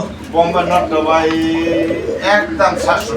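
An American Lakka pigeon coos at a pigeon market, its throaty rolling calls close and clear under and between a voice and the surrounding chatter.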